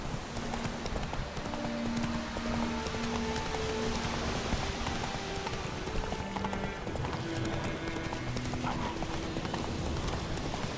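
Horse hooves clip-clop steadily on a road in The Witcher 3 video game, the even hoofbeats mixed into a dense, busy game soundscape with a rain-like hiss and background music.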